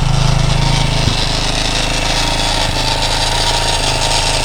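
Motorcycle built on a CTX200 frame with a swapped-in 230 engine idling, a loud close steady chugging with a rattly top end and a faint knock early on.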